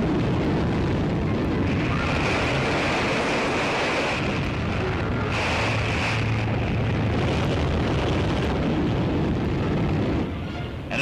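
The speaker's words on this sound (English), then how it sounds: "spectacular disaster as an Atlas missile blows up on its pad" An Atlas intercontinental missile blows up on its launch pad in 1961 during a first launch from an underground site. A dense, continuous roar of explosion and burning fills the whole stretch without a break.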